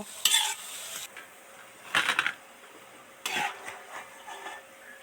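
Cauliflower pakoras sizzle in hot oil in three short, bright bursts of frying and stirring, with quiet low hiss between them and no voices.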